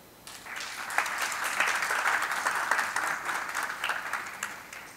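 Audience applause at a plenary session of a regional coordinators' conference, a dense wash of many hands clapping that starts abruptly and holds steady at moderate loudness for several seconds.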